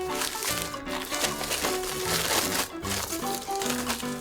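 Plastic packaging around a new PlayStation 5 Slim console crinkles steadily as it is unwrapped up close, a continuous rustling that lasts throughout.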